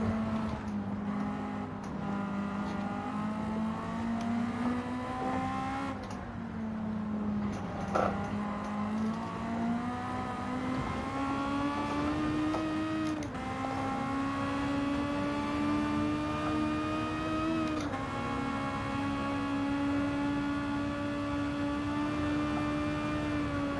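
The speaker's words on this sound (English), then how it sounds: "so you can listen to that naturally aspirated engine sound" A naturally aspirated car engine in Gran Turismo 7 holds a sustained, harmonically rich tone, its pitch rising and dipping through revs and gear changes. The sound stays loud and continuous for the whole stretch, with no speech over it.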